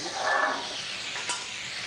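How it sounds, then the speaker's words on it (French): Truffle juice hisses and sizzles as it deglazes a beef roasting pan, a short, fairly loud burst that softens into a gentle steady sizzle. "Voilà, j'ai déglacé le plat"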